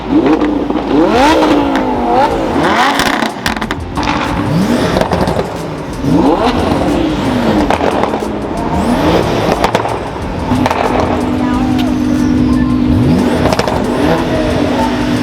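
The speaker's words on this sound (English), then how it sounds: "The exhaust on that is insane." A loud car engine revs up and down repeatedly, its pitch sweeping and falling, with crackling pops from what appears to be a factory exhaust between revs, close and continuous, at a rally launch party.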